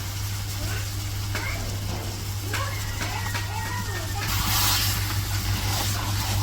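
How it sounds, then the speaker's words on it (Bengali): Raw chicken pieces dropped into fried spice paste in a village kitchen pan, bursting into a loud hissing sizzle partway through, while a person talks and a low steady hum runs underneath. "মশলা কষানো হয়ে গেছে, এখন এই যে মুরগির মাংসগুলো দিতেছে"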